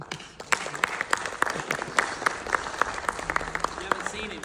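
Scattered audience applause at a film screening and Q&A, a loose patter of claps over about four seconds with murmuring voices underneath.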